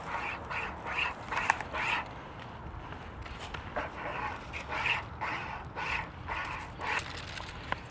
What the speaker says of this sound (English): let's just put it over the little limb here, and then we're just going to pull it back and forth